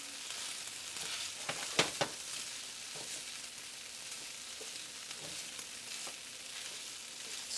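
Potatoes fry in a cast iron skillet over high heat with a steady crackling sizzle and a few louder spatters and stirring clicks early on. No one speaks.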